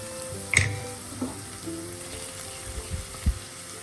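Ground coconut paste goes into an oyster mushroom stir-fry for thoran, giving a quiet sizzle with a sharp clink near the start and a few soft thuds of the paste dropping and being moved in the pan.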